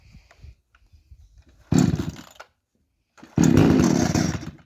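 Chainsaw being pull-started with the choke set for cutting firewood: a short burst of engine noise, a pause, then the saw roars back and runs loudly and steadily, close by.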